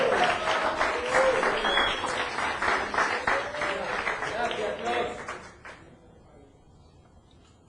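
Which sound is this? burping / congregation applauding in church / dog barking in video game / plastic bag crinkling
congregation applauding in church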